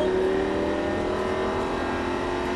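A Lamborghini Gallardo LP560-4 or Ferrari 458 Italia engine hums at a steady, fairly loud drone while accelerating gently, with no voices.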